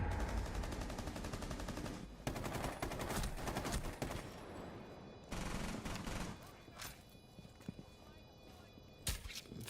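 Gunfire in the Rainbow Six Siege video game rings out as repeated close bursts over constant background game noise, with a player talking throughout.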